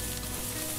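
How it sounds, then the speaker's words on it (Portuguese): Filet mignon charque, a dried beef, sizzling in olive oil in a pan, a dense steady crackle and hiss heard briefly and up close. "Aí a gente vai fritando aqui esse charque de filé mignon."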